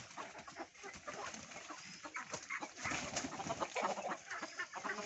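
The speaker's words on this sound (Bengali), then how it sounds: "ওই তো হাঁস মুরগি সব আছে।" Free-range chickens, including fighting-breed Aseel birds, clucking on a Sundarbans farm, with busy, overlapping clucks and calls continuing steadily and close by throughout.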